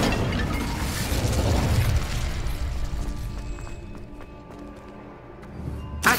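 The Incendio fire spell is cast in Hogwarts Legacy, a loud fiery burst and rumbling blast that trails off into crackling and clicking game effects, with another hit at the end.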